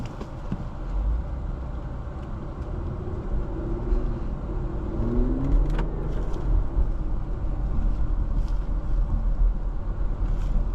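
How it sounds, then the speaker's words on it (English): A 2022 Infiniti Q50 Luxe AWD engine hums steadily with continuous road and tyre noise, heard from inside the moving car. "Let's take this car out on the road."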